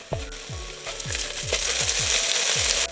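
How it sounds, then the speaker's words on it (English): Garlic stirred into tomato paste sizzles in a pan for beef rigatoni, with a steady frying hiss and a run of regular soft knocks from stirring, up close and without talk. "We're gonna cook this in, and we're also gonna add our garlic as well."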